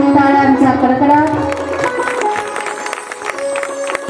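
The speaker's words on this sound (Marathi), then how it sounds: "टाळ्यांचा कडकडाट" Audience applause at a Shri Ram katha, a devotional storytelling gathering in Lohgaon: a dense, steady wash of clapping that follows sustained chanting or music and continues loudly to the end.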